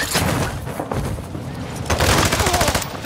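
Gunfire in a video game, a dense stream of rapid shots and booms throughout, loudest and most rhythmic in the second half.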